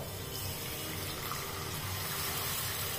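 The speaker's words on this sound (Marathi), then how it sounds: "दूध टाकतोय।" Milk, nearly three litres with some cream, poured into a pot in a home kitchen, a steady continuous liquid gush and splash at moderate level with no breaks and no talk.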